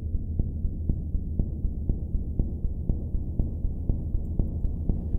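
A dark ambient patch in VCV Rack has an LFO as its sound source, giving a steady low hum that throbs in evenly spaced pulses about twice a second, like a slow heartbeat. The hum runs on alone throughout.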